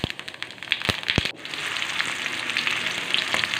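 Cumin seeds sizzling in hot oil with asafoetida, a clove and black peppercorns in a kadhai: a steady, close crackling fry with a few sharp pops near the start.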